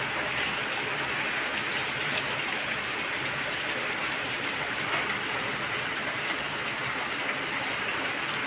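A heavy morning downpour drums on a water tank while wind shakes a mango tree. The rain makes a dense, unbroken hiss at an even level with no pauses.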